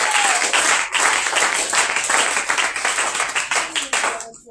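A church congregation claps together in acclaim of Jesus, a dense, steady applause filling the room for several seconds while a voice calls out over it.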